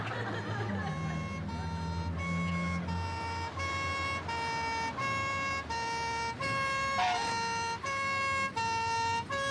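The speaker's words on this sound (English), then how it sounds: "Wait! The siren! Switch it off!" Emergency vehicle siren wailing loudly and steadily in a repeating harmonic pattern, close by under traffic rumble, with no talk.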